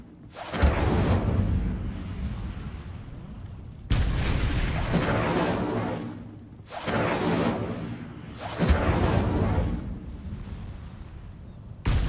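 Incendio fire spell cast repeatedly in a video game, four heavy booming bursts that each start sharply and roar before fading, loud and up close.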